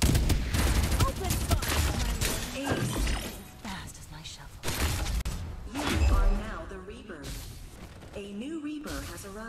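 Gunfire in the video game Farlight 84, loud dense bursts of shots and impacts mixed with game music and voice lines, with talking throughout.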